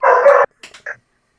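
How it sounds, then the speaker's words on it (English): A dog gives one loud close bark followed by a few shorter, fainter yips, then silence. "I hear dogs barking."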